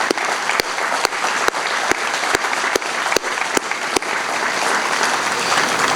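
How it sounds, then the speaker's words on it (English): An audience at a school ribbon cutting ceremony gives steady, sustained applause, with sharp clicks punctuating it at regular intervals. "So I want to give Caleb a huge round of applause."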